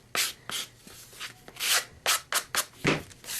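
Chipboard edges being sanded by hand in a series of short, scratchy rubbing strokes of varying length, close and fairly quiet, with no talking.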